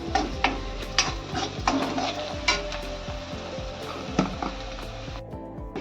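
Malvani masala roasting and being stirred in hot oil, a steady sizzle with repeated spoon scrapes and clinks against the pan at an uneven rhythm, close and clear with no talk.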